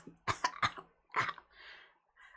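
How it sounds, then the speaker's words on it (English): A person coughs several times in quick succession, close and fairly quiet, followed by a short throat-clearing rasp, indoors with no talk. "I don't know why I cough."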